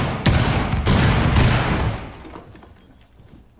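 A Fuze cluster charge detonating in Rainbow Six, a rapid series of loud, close blasts with shattering crackle that fades over a couple of seconds, followed by a couple of faint electronic beeps.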